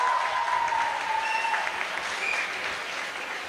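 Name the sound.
audience applause for quiz team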